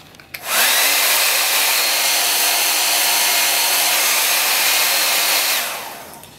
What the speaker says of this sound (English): start with a hairdryer, and you want to warm the adhesive on the glass.